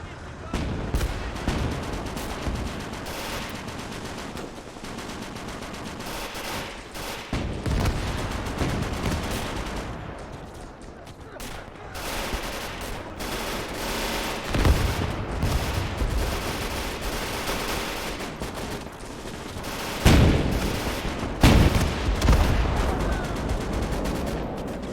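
A Gates of Hell battle between German and Soviet forces fills the air with dense, continuous gunfire and heavy artillery booms, loud bursts and rumbling impacts overlapping throughout with occasional sharper blasts and a voice talking over it.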